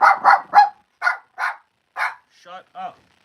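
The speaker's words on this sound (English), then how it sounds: "Can you stop barking at me?" A dog barks in a quick series of about eight sharp, close, loud barks in uneven bursts, the last few turning thinner and more whining.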